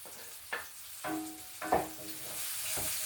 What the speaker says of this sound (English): So I'm going to add it to our oil that we browned our pork chops in.